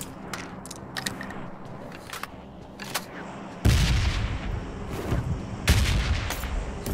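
Bursts of gunfire from a PUBG Mobile battle played on an iPhone 11, with scattered shots early on and two loud, booming volleys later, close and dense.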